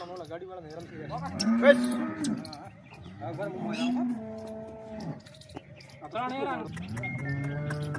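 Several drawn-out cow moos, loud and close, rising and falling over a few seconds, as a sold cow is loaded onto a vehicle, with people talking in between and around them.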